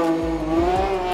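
BMW 1 Series race car with a high-revving engine screaming near 12,000 RPM, a sustained shrill wail with quick throttle blips, loud and close.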